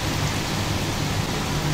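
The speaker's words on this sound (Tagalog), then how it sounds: "Mag-ulan na siya." Steady rain pours down in a dense, even hiss with a low rumble underneath, constant and close throughout with no voices.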